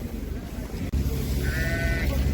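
Sheep with lambs at Karabulak livestock market, a single clear bleat rising over a low murmur of market background noise.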